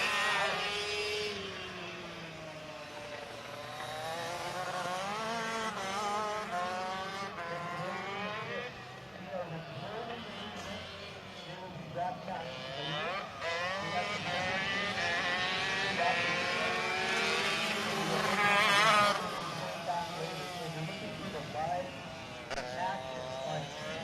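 ROK Shifter 125 karts racing at Sonoma, engines buzzing and whining in rising and falling waves as they pass, with a commentator talking steadily over the racket throughout.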